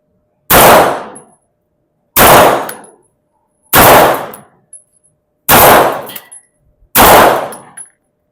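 Five loud, sharp Springfield Armory gunshots ring out at a range, evenly spaced about one and a half seconds apart, each with a brief ringing decay and no talk between them.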